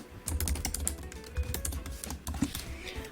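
Rapid keystrokes on a computer keyboard while entering text into a text box, sharp irregular clicks close to the microphone with a low hum underneath.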